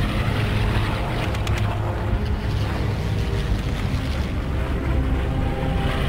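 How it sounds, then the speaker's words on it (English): Low droning engine roar of World War II bomber aircraft passing overhead in Call of Duty: World at War, a steady dense rumble holding loud and unbroken throughout with no voices. "Wait until the bombers are directly overhead. The sound of the engines will drown out your shot."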